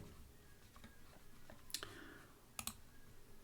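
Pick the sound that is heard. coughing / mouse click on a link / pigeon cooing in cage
mouse click on a link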